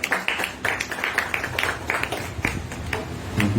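A church congregation in Hoshiarpur claps steadily to welcome their pastor, with dense overlapping handclaps forming a continuous, fairly close and lively applause.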